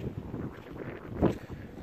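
Wind buffets a microphone steadily out on the water during a rowing session, with a gusty rumble that swells briefly partway through.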